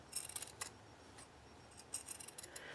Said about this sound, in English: I'm just going to, follow along with my scissors